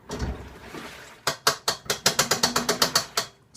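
A washing machine drum catches as it spins, giving a rapid rattling run of sharp clicks that grows quicker and steadier, loud and close, with no talking.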